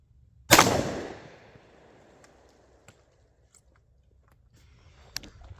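A single-shot 12 gauge shotgun with a cylinder bore fires one 2 3/4 inch nine-pellet double aught buckshot load outdoors at 15 yards, one sharp loud blast with a decaying tail, then quiet with faint handling clicks.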